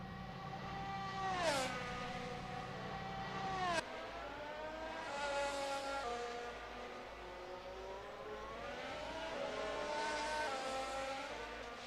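Race car engines in a sim racing game at the Nürburgring, loud and continuous, with rising and falling whining revs, a couple of sharp gear-change drops and overlapping cars, no talk.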